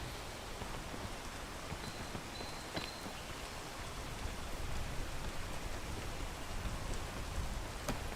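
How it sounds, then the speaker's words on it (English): Continuous rain falls in the 2007 video game TimeShift, a dense even hiss with scattered faint drips and a few thin tonal blips, no voices. "Why am I doing this when the rain is going on?"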